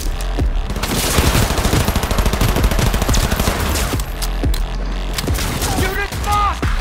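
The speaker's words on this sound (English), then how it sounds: "So, I guess here comes the gun fight." A gunfight in the Cyberpunk 2077 game fills the scene with dense, loud bursts of automatic fire and heavy single shots cracking in rapid succession, with booming impacts, a short lull near the end, then more shots.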